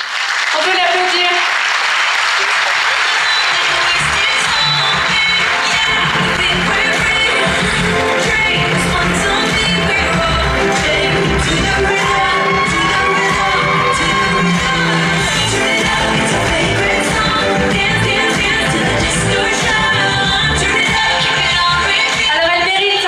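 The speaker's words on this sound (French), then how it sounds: "On peut l'applaudir." Audience applause for a contestant at the Miss Côte d'Or 2018 pageant, a dense sustained wash of clapping with scattered whoops and shouts from a crowd, loud and continuous over a music bed throughout.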